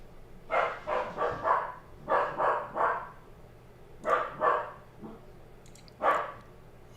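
A dog named Max barks in quick clusters of two to four sharp barks with pauses between, moderately close and clear over a faint steady hum in a room.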